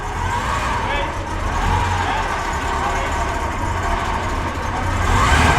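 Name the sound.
Ferrari Europa 8-cylinder engine running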